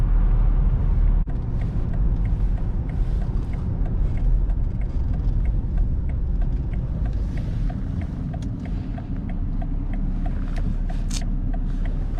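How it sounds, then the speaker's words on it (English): A 2019 BMW 740i xDrive sedan cruises with its exhaust giving a low, steady muted rumble heard from inside the cabin, smooth and continuous under road noise, with no talking. "you can hear the sound of the exhaust in the back without it being super, super loud"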